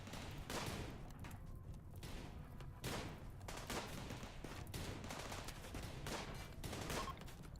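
Gunfire, including shotgun blasts, during a firefight in the Rimworld video game: faint, dense bursts of shots that keep going throughout.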